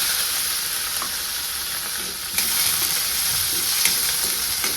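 Onion, garlic and ginger sizzle steadily in hot oil with cumin and mustard seeds, a dense continuous frying hiss with a slight surge partway through and occasional faint pops and stirring.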